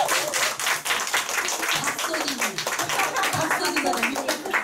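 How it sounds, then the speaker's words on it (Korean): Applause from a seated audience thanking a woman presenter at a Nu Skin group business seminar: dense, steady clapping from many hands that fills the room, with voices mixed in, lasting the whole stretch. "정소진 사장님께 감사의 박수 부탁드리겠습니다."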